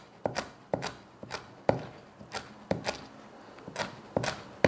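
A knife presses down and slices through lightly grilled pufferfish skin on a cutting board in a blowfish-cooking exam kitchen, giving about nine sharp, close chopping thuds in an uneven steady rhythm with no voices.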